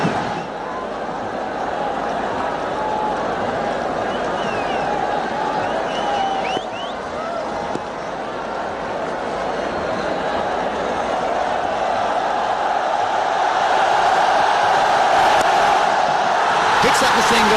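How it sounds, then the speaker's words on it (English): Steady, loud crowd noise fills a stadium at a Pakistan vs India cricket World Cup match, a continuous roar of cheering and babble that swells slightly toward the end without a clear break. "The crowd are really enjoying this onslaught from both these batsmen, especially from Salman Butt."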